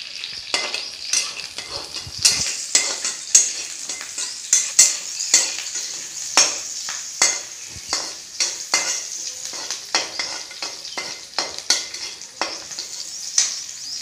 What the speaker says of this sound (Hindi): अब इसमें हमने कड़ी पत्ता डाल दिया है।